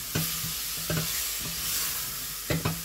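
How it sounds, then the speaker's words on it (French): Mixed summer vegetables simmer in their own tomato juice in a pan without added water, a low steady sizzle punctuated by several knocking spoon stirs, close by, without speech. "On va laisser maintenant les légumes continuer à cuire avec le jus des tomates."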